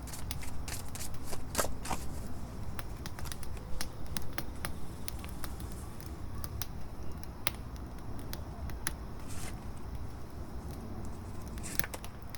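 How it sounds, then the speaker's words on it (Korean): Tarot cards are shuffled and drawn close up: rapid riffling flutters and crisp snapping clicks repeat irregularly over a quiet room background, with no talking. "우선 순서 카드부터 뽑고 다른 카드 또 다 뽑아 볼게요"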